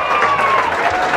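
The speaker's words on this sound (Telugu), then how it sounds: "ఒకసారి గట్టిగా చప్పట్లు కొట్టి" College audience at a government junior college function in Vinukonda clapping for a state-ranked student, a brief burst of dense applause with crowd noise throughout.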